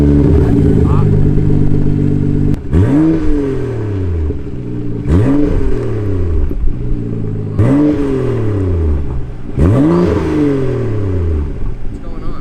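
BMW F30 335i with a straight-piped exhaust and catless downpipe, loud and close, revving hard in four or five sharp bursts that climb and fall back, with a constant rumbling idle between the pulls.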